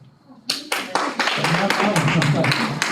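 An audience bursts into applause at a school board meeting, loud, close clapping that starts abruptly after a brief quiet moment and continues steadily, with voices mixed in.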